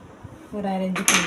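Scissors snipping through blouse fabric during tailoring, heard as two quick crisp cuts near the end after a faint ringing hum.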